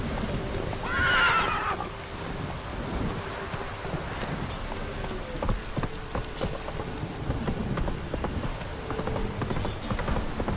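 In The Witcher 3, the horse Roach whinnies loudly near the start, then trots with steady clip-clop hoofbeats through a heavy rainstorm with low rumbling thunder in the background.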